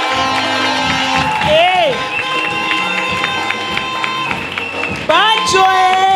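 Crowd applause and cheering at a church gathering with an apostle, clapping and whoops swelling under voices and music, with a loud burst near the end.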